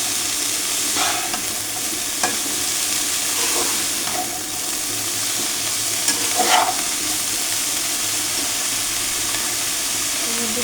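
Radish greens (mulo shak) stirred in a frying pan, a steady sizzling hiss with scraping stir strokes scattered throughout, close and fairly loud, no voices.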